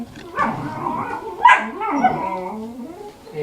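Excited puppies bark and yip in quick, uneven bursts, with higher squeaky yelps and whimpers mixed in, close and moderately loud.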